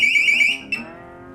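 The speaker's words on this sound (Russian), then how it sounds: "Сигнализация. Все работает." A sensor-triggered security alarm under an open-air canopy gives a loud electronic tone pulsing rapidly in repeated bursts for about half a second, then one short blip before it falls silent.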